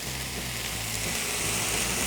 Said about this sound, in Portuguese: já vou acrescentar 1 tomate picado